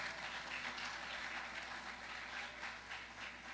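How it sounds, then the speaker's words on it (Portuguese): A church congregation applauding during a live Portuguese-language celebration service, a steady wash of clapping that fills the room for a few seconds without voices. "Vamos aplaudir o Senhor"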